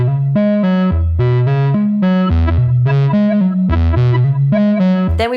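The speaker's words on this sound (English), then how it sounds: "I ended up plugging this into an LFO generator, which created some glitches in the patch and added an extra layer of sound." Synth patch run through a Pedal Brainz unit and modulated by an LFO generator, giving loud, choppy, gated bursts of tone with abrupt glitchy pitch shifts.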